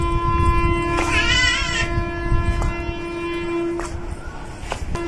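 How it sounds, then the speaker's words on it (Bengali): A passing train sounds its horn in one long, wavering blast, with a steady rumble and clatter of the wagons continuing close by throughout. "আবার ট্রেন আসছে।"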